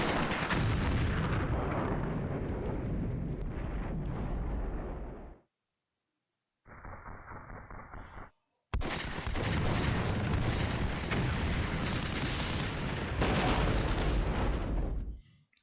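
Artillery fire in the Cold War video game Flashpoint Campaigns: heavy booming blasts and rumbling bursts fill the first five seconds, then a short lighter burst, then a long sustained barrage of explosions, loud and close, with no talk.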